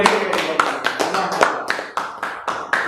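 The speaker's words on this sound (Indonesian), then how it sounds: "Tepuk tangan buat Fioni" An audience at a school talk show claps for a student, a rhythmic patter of hand claps repeating steadily for a few seconds, close and fairly loud.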